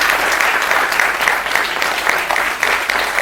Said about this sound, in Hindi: जोरदार तालियों के साथ मेजर जनरल संजय सोई का स्वागत करें